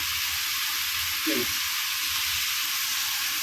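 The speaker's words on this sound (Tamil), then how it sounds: "இது ஒரு இஞ்சி பூண்டு பேஸ்ட்டு நல்லா கொஞ்சம் வதங்கட்டும்" Ginger garlic paste sautéing with onion and tomato gives a constant soft hiss in the pan, and a short voice sound rises briefly partway through.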